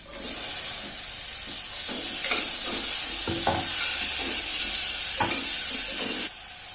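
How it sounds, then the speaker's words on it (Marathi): Onion and tomato frying in oil for dal khichdi, a loud continuous hiss of sizzling with occasional spoon scrapes and stirring knocks close by. "कांदा आणि टोमॅटो भाजत आलेला आहे."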